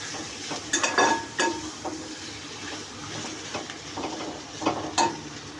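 Boiled potato, onion and green chili fry in a pan for a puri bhaji, a soft continuous sizzle broken by sharp scraping stirs and clinks of a spoon against the pan, close up and without talk.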